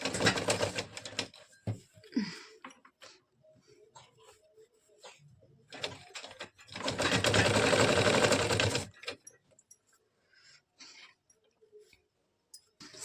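A sewing machine stitching piping onto a katori blouse runs in short bursts, then in one sustained whirring stretch of about three seconds, with quiet fabric handling and clicks between.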